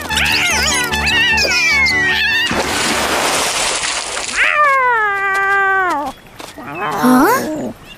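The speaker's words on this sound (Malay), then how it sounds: "Kucing dengan tikus tu tiba-tiba melintas." Cartoon cat meowing in a rice-field scene with a mouse, several drawn-out wavering meows and yowls, loud and close, mixed with music and a bright noisy burst.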